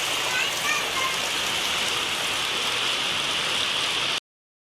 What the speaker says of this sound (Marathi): बाहेर फुल पाऊस चालू होता आणि इथे मी माईक घ्यायला असताना सुद्धा पत्र्यांचा इतका आवाज होता